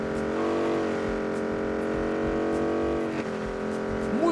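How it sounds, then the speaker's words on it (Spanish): A steady, buzzing motorcycle engine in the video game PUBG drones close by with strong harmonic tones, shifting pitch briefly near the end as if revving. "¡Está buenísimo el ruido de esta moto!"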